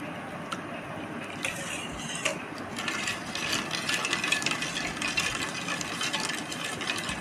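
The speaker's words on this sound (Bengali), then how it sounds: "ডিম চিনি দুধের মিশ্রণটা মা ভালো করে নাড়িয়ে নিচ্ছে।" Egg, sugar and milk mixture for caramel pudding being stirred steadily in a bowl, a continuous close scraping and clinking texture with small ticks throughout, no voices.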